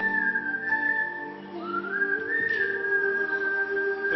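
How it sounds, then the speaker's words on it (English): A contestant whistles a sustained melodic tune on stage at a university talent show, bright pitched tones gliding and holding steadily, clear and close with no talking. "my talent is whistling"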